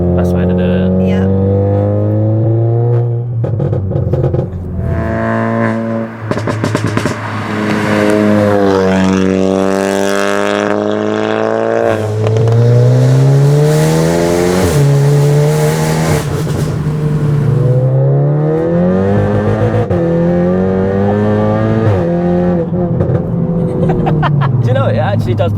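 A 520 BHP big-turbo Cupra accelerates hard, its engine note climbing repeatedly through the gears with loud, rising revs and shift breaks, heard from close inside the car while people talk over it.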